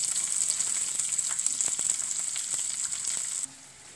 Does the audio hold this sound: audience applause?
no